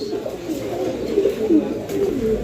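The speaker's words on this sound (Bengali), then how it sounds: "এখানে আরও এক জোড়া কবুতরের কালেকশন রয়েছে" Pigeons cooing at a pigeon market, several soft throaty coos overlapping at close range over a low background murmur.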